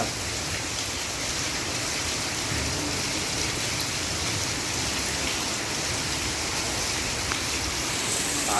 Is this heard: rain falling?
yes